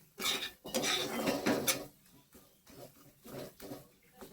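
Spice masala being stirred in a cooking pan before jackfruit seeds go in; a utensil scrapes and clatters against the metal in uneven bursts, louder at first and then in shorter, softer strokes.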